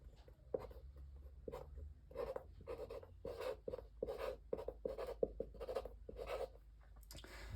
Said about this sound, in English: I'll draw a caffeine molecule.